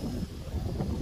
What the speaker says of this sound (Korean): 태풍이 지나갔지만 지금도 바람이 세게 아주 붑니다.